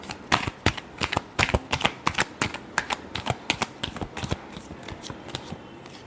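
Tarot cards are shuffled by hand up close in a fast, uneven run of crisp riffling snaps and slaps, loud and dry with no voices.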